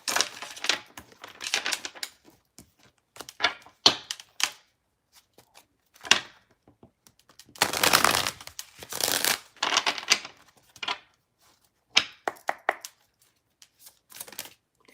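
Tarot cards being shuffled in several bursts of rapid riffling and flicking, with short pauses between, close and fairly clear.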